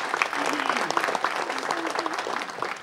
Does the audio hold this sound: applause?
yes